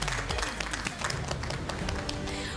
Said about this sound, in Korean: 우리 잡초팀에게도 큰 박수로 축하해 주시기 바랍니다